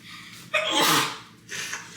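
A single loud, close sneeze with a sharp breathy burst, followed by a softer exhale.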